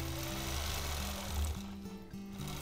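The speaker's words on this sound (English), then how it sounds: "let's quilt a few lines" A quilting machine runs steadily nearby as it stitches straight quilting lines with ruler work. Its hum is continuous and shifts in pitch several times as the speed changes.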